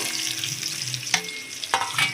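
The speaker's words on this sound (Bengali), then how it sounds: "দেখো একটু জিরে ফোড়ন দিলাম, জিরেটা একটু লালচে হয়ে যায়" Cumin seeds sizzle in hot oil with a bright, crackling hiss, broken by a couple of sharp stirring scrapes, close and loud with no talk.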